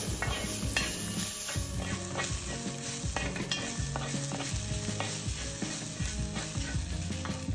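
Banana flower thoran stir-fry being stirred in a pan over low heat, continuous close sizzling with rhythmic scraping and clinks of a spatula against the metal pan, no voices.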